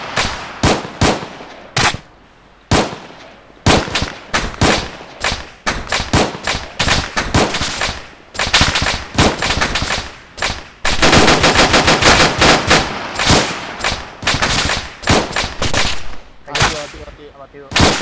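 Heavy gunfire in the military game Arma 3: dense machine-gun bursts and single shots crack loud and close for the full stretch, with brief gaps and a voice talking in between.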